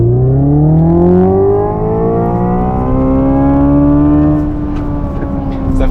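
The synthetic engine sound of a 650-horsepower Hyundai Ioniq 5 N electric car climbs steadily in pitch like a revving motorcycle, loud and continuous, then eases and rises again while driving.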